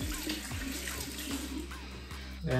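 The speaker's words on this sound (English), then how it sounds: "I soak it under the cold water" Cold water runs steadily from a tap over an alum block while wet-shaving, a close continuous splashing stream with faint clinks, sounding alone.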